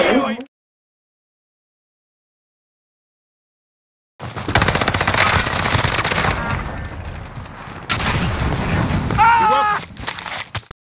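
Gunfire in a video game, a rapid automatic clatter of shots that starts after a few seconds of silence and runs on loud and continuous, with brief voices and game sounds mixed in.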